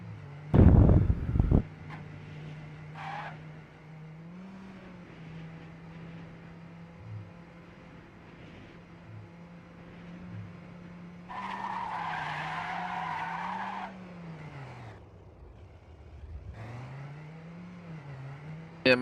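Cars in a racing video game, tires skidding and screeching in long wavering squeals over a low engine drone, with a louder burst of skidding at the start and faint talk in the background.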